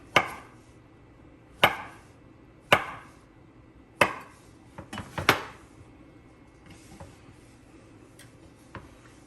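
A knife cutting a stick of butter into cubes on a board, sharp isolated chops spaced about a second apart, a quick cluster of cuts midway, then fainter taps trailing off.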